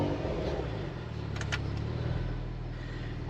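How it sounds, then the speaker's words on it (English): A Porsche Macan GTS with 34,426 miles fires up close by, the starter catching into a loud engine roar that settles straight into a deep, steady idle thrum. "Let me start the car up so you can hear exactly what it sounds like."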